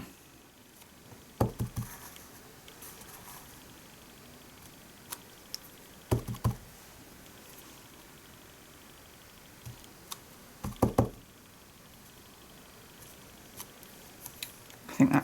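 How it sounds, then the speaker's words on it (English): A decorative flower stamp pressed onto the corners of a card: a few soft, close taps and knocks spaced several seconds apart, the last ones in a quick cluster, over a quiet room. "we're going to put that into the 4 corners like that"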